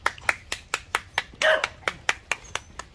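Sharp hand claps repeat at a steady, quick rhythm to call a young Rottweiler puppy outdoors, each clap close and crisp, with a short burst of other noise midway.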